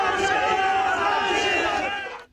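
Party workers chant slogans outside a district central jail, a dense crowd of shouting voices rising and falling together, loud and close, before cutting off abruptly at the end.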